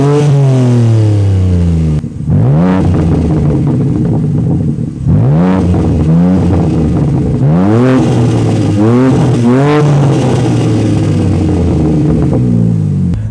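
A 2022 BMW M3 Competition xDrive exhaust revved hard and close, rising sweeps and repeated blips over a steady loud engine drone, with no talking.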